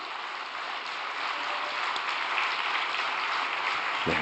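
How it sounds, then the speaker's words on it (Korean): An audience fills an indoor ceremonial gathering with steady, sustained applause that holds at an even, dense level throughout and swells slightly toward the end. "감사의 박수를 올려드리겠습니다."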